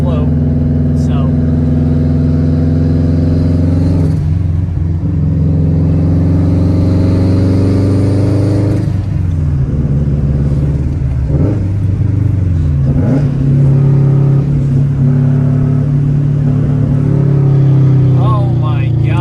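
Cabin view of a Subaru WRX fitted with a Tomei exhaust and Cobb catted downpipe, its engine droning loudly and rising and falling through several revs, with a voice speaking over the steady roar.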